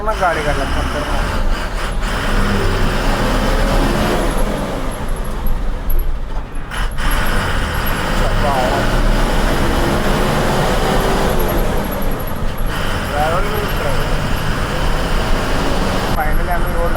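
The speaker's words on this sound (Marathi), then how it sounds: "त्यामुळे ट्रॅफिक जाम झालं" Road traffic during a jam near Malvan, with a dense, continuous rumble of engines and tyres from cars, buses and trucks close by, and voices blending in now and then.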